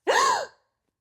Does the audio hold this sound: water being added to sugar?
no